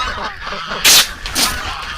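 A few loud honking calls from ducks close by in winter, one sharp squawk standing out among softer calls over quiet background.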